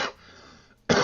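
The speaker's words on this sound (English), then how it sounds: "I have a little bit with my cough this morning" A single short, sharp cough right at the end of a brief quiet moment, close and fairly loud.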